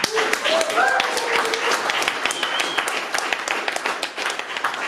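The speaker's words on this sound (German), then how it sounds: "Dicken Applaus für Nick!" A concert audience in Hildesheim applauds the sound technician at a venue before a Django-style revival show, loud, dense clapping that carries throughout, with voices and some cheering mixed in.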